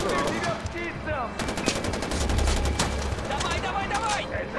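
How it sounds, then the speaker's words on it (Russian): Rapid automatic gunfire and single shots from Far Cry 4 crackle almost without pause through the whole stretch, with a heavy low boom partway in and game voices mixed underneath. "Выстрелы!"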